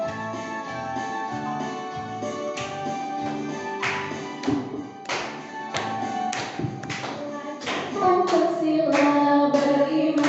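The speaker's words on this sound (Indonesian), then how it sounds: "mari kita menyanyikan sambil tepuk tangan" Hands clap steadily along with group singing during a school teachers' session on positive culture, sharp claps beating in rhythm over voices and music throughout.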